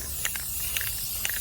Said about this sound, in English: I like changing the direction that I'm spraying just so you get the different textures in there.